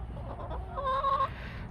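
Hens on a snowy winter farm give a brief, soft cluck over steady background noise, quick and fairly faint.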